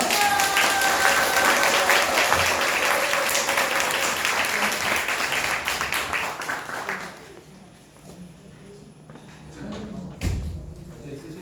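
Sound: audience applause at a forum

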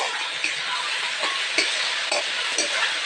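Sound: stirring radish and eggplant curry in a pan

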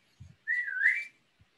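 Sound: person whistling

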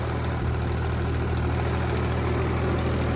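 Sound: Ford 3600 tractor engine running

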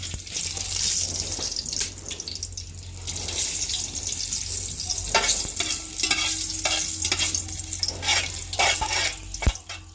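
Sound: pulao whole spices frying in a pan

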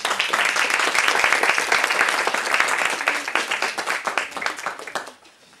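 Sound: audience applause

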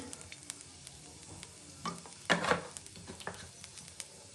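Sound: oil heating and sizzling in a wok

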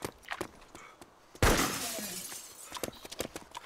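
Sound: glass window shattering

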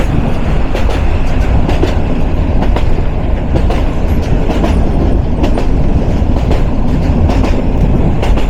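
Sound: local commuter train running on the line

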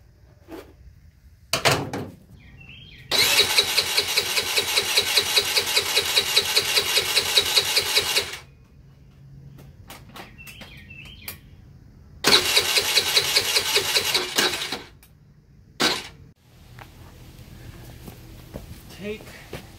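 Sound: cheap scooter engine starter cranking

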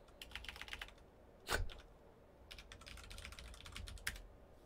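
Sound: typing a password on a computer keyboard

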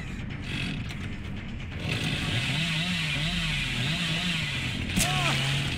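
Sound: chainsaw revving in Dead by Daylight video game

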